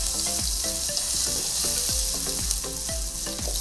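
Half a portion of garlic cloves sautéing in a hot pan, a steady loud sizzle and frying hiss with the clink and scrape of stirring repeating every half second or so.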